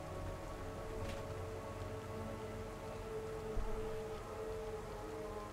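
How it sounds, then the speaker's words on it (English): Steady rainfall in the survival game DayZ on the Chiemsee map, a constant soft hiss of drops on surfaces with a low rumble underneath and one brief louder knock partway through. "It's been raining a lot lately."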